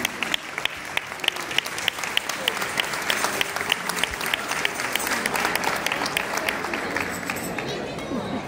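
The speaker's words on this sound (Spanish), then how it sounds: "Un aplauso muy fuerte." Loud, sustained applause from a crowd after a children's Christmas carol performance, with many sharp individual claps and light chatter and a voice mixed in throughout.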